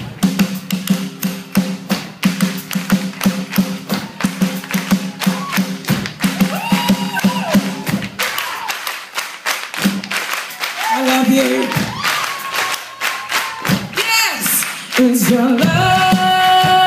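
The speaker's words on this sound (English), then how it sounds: "Now, I need you to clap." Concert audience at the Varsity Theater clapping along in rhythm to a live song, a steady stream of claps and taps mixed with loud music and singing throughout.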